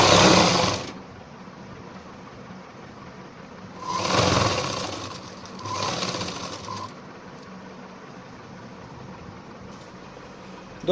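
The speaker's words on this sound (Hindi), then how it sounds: "इसकी भी हम पुट्ठे से सिलाई लगाते हैं।" A sewing machine stitches a seam on a ladies' pant in three separate bursts of loud, close whirring, each lasting about one to three seconds, with quieter room noise between them.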